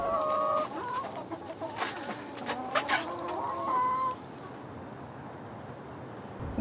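A flock of chickens clucking and squawking nearby, overlapping calls over a steady outdoor background, fading to quiet near the end.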